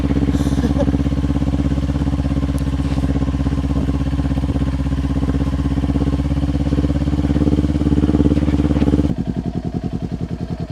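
A 2023 Kawasaki Ninja 400 motorcycle engine idles steadily close by, with a continuous low throbbing rumble that drops to a rougher, pulsing tone near the end.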